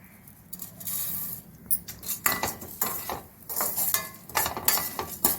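Chana dal and urad dal frying in a pan for a bitter gourd dish, with a spoon scraping and stirring against the metal in irregular bursts over a soft sizzle, close and moderately loud, no talking.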